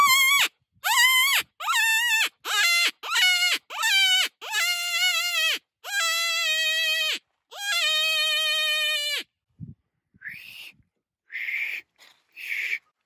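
An open reed predator call blown in short, repeated squealing bursts imitates a distressed rabbit, the wails rising and falling in pitch, followed by a few softer, scattered notes; close and loud with no speech.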